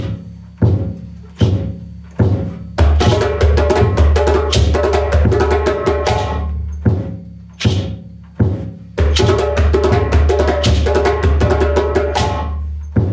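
Hand drums play a rhythmic phrase of deep thumps and sharp slaps, broken by rapid rolling flourishes, loud and close with no voices.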